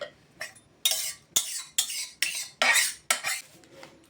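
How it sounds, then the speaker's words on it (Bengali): A spoon stirs a freshly poured tempering through a breakfast dish in a metal pan, giving about eight sharp, close scraping clinks in an uneven rhythm with short pauses between them. "এই ফোড়নটা ঢেলে দিলাম, দিয়ে ভালোভাবে মিশিয়ে নিচ্ছি"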